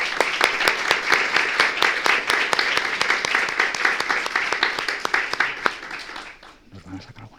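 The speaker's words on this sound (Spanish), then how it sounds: "Un aplauso, por favor" Steady, dense applause from an audience honoring a panel at a digital health conference, with talk mixed in, thinning out and dying away near the end.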